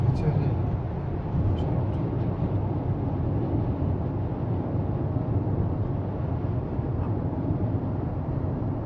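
A Kia Sorento diesel drives along with a steady, even engine and road drone from inside the cabin, continuous and moderately loud with no break.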